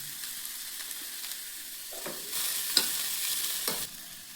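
Ginger, garlic and chillies fry in a pan with a steady sizzle, broken by several short stirring scrapes that grow louder in the second half; no voices.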